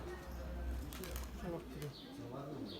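Fancy ornamental pigeons coo softly with brief bursts of wing flapping, faint and close, while a voice talks quietly in the background.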